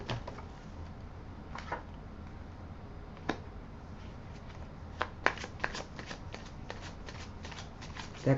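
Tarot cards are shuffled steadily and close up, a soft riffling broken by brief slaps and snaps of the deck.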